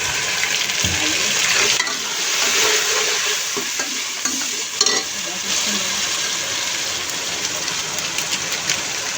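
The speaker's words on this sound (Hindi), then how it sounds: "और अब इसमें डालिए अदरक लहसुन" Ginger and garlic frying with browned onions in a pan for nihari, a steady loud sizzle with occasional stirring scrapes running throughout.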